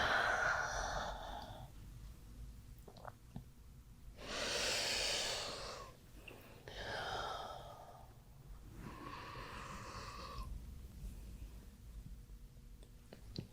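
Slow, deep breaths taken during a morning stretch in bed, several long audible inhales and exhales spaced a few seconds apart, close and fairly soft with no talking.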